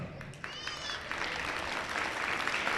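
Faint, steady applause from the crowd fills a gym at a PIAA District girls' basketball sub-regional championship game, soft and even throughout.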